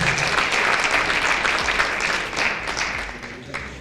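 Audience applause at a criminal justice summit gubernatorial candidates forum, greeting a Republican House candidate; dense, steady clapping from a sizable crowd that holds strong before tapering off toward the end.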